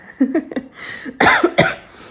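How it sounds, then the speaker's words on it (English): Several harsh, breathy coughs after a run, close to the microphone, a couple of quick lighter ones followed by two louder, heavier bursts. "I always cough a little after my runs."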